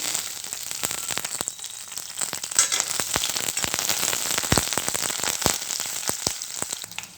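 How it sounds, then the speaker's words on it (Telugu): Green chilies and dried red chilies frying in hot oil, a loud dense crackling sizzle with frequent sharp pops and spatters throughout, close up and continuous, no voices. "ఆయిల్ పోసేసుకొని పచ్చిమిర్చి ఎండుమిర్చి వేసుకున్నానండి"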